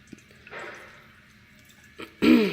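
Water poured into a Harbor Freight vapor steamer, heard as a few close drips and a brief trickle, then a louder splashing gush at the end.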